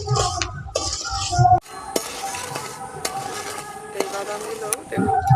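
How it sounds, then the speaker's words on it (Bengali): Shell-on peanuts roasting in a pan over a raised flame, with metal spoon scrapes and clinks as they are stirred, a soft dry sizzle underneath and a few sharp clacks of shells. "বাদাম ভাজার সময় উনুনের আঁচটাকে একটু বাড়িয়ে রাখতে হবে"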